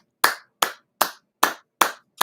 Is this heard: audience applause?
yes